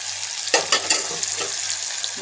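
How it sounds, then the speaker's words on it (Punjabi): Cumin and onion hit hot oil for a tadka, a loud close sizzle with a few bursts of crackling spatter early on, then a steady hiss, without voices. "ਤੇਲ ਗਰਮ ਹੋ ਚੁੱਕਿਆ ਜੀ ਹੁਣ ਆਪਾਂ ਪਾਵਾਂਗੇ ਇਹਦੇ ਵਿੱਚ ਅੱਧਾ ਕ ਚਮਚਾ ਜੀਰੇ ਪਿਆਜ਼ ਪਾਤਾ ਜੀ ਆਪਾਂ ਨੇ ਤੜਕੇ 'ਚ"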